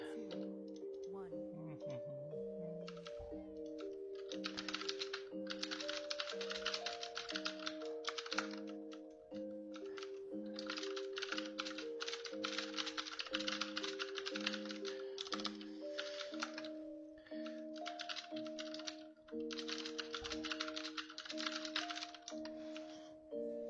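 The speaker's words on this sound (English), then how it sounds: "Oh, I wonder if my typing is coming through again." Quick clattering keystrokes on a computer keyboard during a World of Warcraft dungeon session on a Korean server, in bursts running steadily under layered game music and effects.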